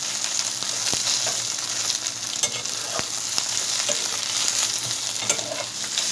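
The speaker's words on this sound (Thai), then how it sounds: "เราก็ผัด ผัดผักกาดดองก่อนนะคะ" Pickled mustard greens stir-fried in a small pot, with a steady sizzle and repeated scraping and clinking of the utensil against the pot, fairly close and with no talk.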